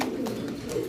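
A Spanish pouter pigeon gives a short, soft, throaty coo close by, lasting under a second and heard alone.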